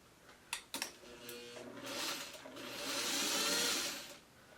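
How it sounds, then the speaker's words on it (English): A sewing machine stitches fabric close by, starting after a few handling clicks and building into a steady rising whirr for a few seconds before easing off. "hold on to this while I sew"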